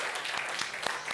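Faint, brief applause from a small group during a live church broadcast, a quiet patter of scattered claps lasting only about a second.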